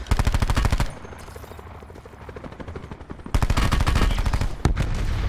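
A ray gun fires in the Blackout battle royale mode of a shooter video game. Loud, rapid bursts of shots come in two spells, separated by a quieter stretch of lighter repeated firing.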